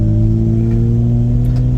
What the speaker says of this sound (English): just the right amount of throaty exhaust